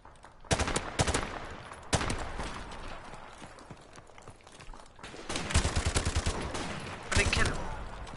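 Assault rifle fire in Call of Duty Modern Warfare Remastered multiplayer, with loud, close bursts of rapid shots separated by short pauses and the heaviest volleys near the end.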